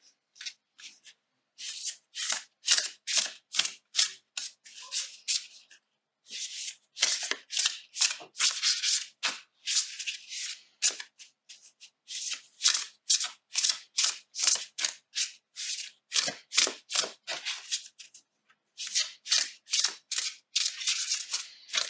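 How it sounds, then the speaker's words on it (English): Thick cardstock oracle cards shuffled repeatedly in quick riffling bursts, crisp and close, with short pauses between rounds and no talking. "I'll shuffle these and I'll pick a random card"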